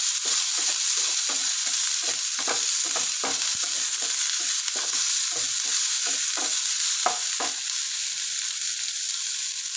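Medium-cut onions sauté in a pan for banana flower poriyal, stirred with steady, regular scraping strokes over a constant close sizzle, with no talking.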